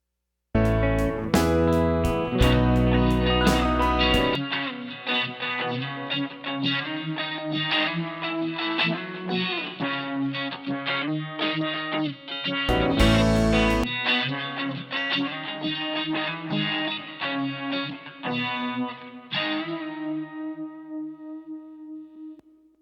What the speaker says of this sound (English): I've put it through the Nu X Atlantic delay and reverb on the 60s tape delay setting with some plate